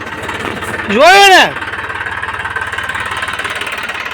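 A tractor engine idles with a steady low mechanical chugging throughout, briefly interrupted by a short spoken phrase close by.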